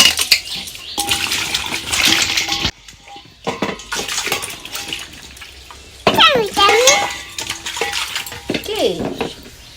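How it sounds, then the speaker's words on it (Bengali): Pointed gourds (potol) are washed in a basin of water, with close, lively splashing and sloshing broken by brief pauses and small clatters of the vegetables and vessel. "প্রথমে আমি পটলটা ধুয়ে নেব ভালো করে"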